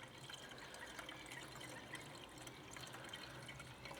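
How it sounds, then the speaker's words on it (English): Ready-mixed coolant pours in a steady liquid stream into the cooling system of a fire-damaged BMW 335i under restoration, a continuous gurgling fill heard close up without speech. "So now it's time to add some coolant."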